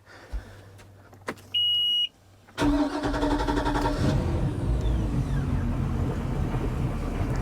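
A 2021 Mercruiser 300 hp engine in a 2006 Sea Ray 220 Select boat cranks briefly after a couple of clicks and a short beep, then catches and settles into a steady, close rumbling idle that runs to the end.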